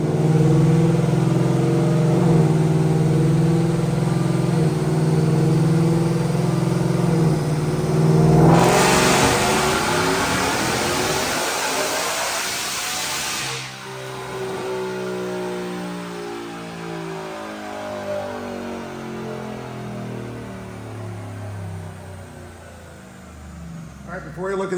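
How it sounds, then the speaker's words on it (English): A 2024 Ford F-150 with a Whipple supercharger on E85 revs hard on a dyno, its engine note rising to a loud roaring pull that peaks midway, then drops back to a lower rumble; the engine sound stands alone with no talking. "Check out this dyno pull."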